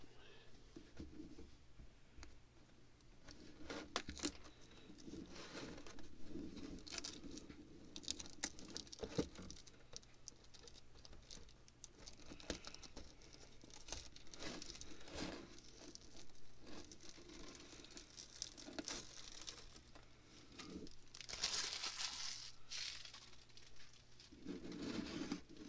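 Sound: peeling and crinkling while working on an RC car

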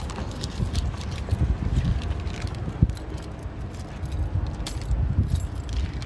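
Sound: keys jangling

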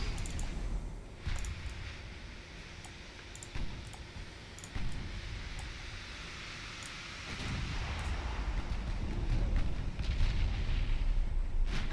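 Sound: naval guns firing at a merchant ship, Ultimate Admiral Dreadnoughts game

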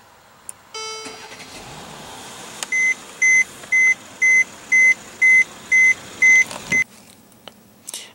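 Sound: Mercedes-Benz E350 3.5 L V6 engine starting via push button

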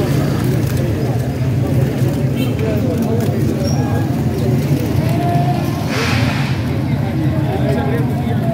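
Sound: pigeons at a pigeon market in Lahore

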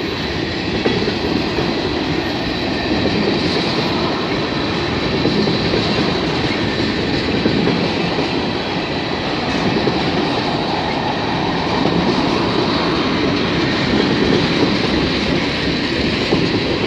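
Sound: freight train passing, wheels clicking on rails

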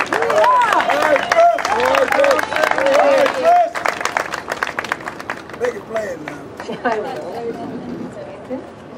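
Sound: audience applause and cheering for a guest

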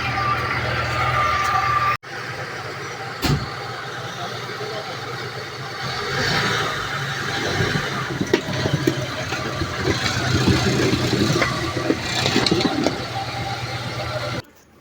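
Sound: car driving

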